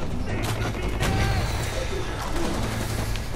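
Mortar fire in a Far Cry 4 co-op fight comes as a steady wash of battle noise with heavy thumps and rumbling explosions, while excited voices talk over it.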